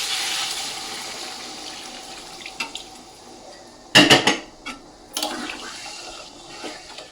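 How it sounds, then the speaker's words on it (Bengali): Hot water is poured into a pan of chital fish cooked in spices, making a sudden loud splashing gush midway that follows softer kitchen clatter, with a few lighter knocks after and no talking. "এবার এই সময় আমি গরম জল করে রাখবো সেটা দিয়ে দেবো"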